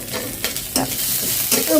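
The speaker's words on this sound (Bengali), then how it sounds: "সেটার মধ্যে আমি এখন শুকনো মরিচটা একটু ভেজে নিলাম" Dried chilli frying in a small amount of oil in a pan, a steady close sizzle broken by a few louder scraping bursts as it is stirred.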